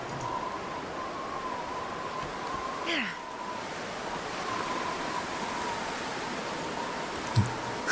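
Ocean waves on the coast in The Long Dark, a steady soft wash of surf with a constant faint hum on top and a couple of brief knocks near the end.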